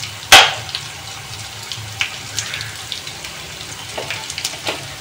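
Garlic cooking in a pan as crushed red chili goes in for a desi-style mixed vegetable dish, a sharp clatter at the start, then soft intermittent sizzling and small pops, fairly close.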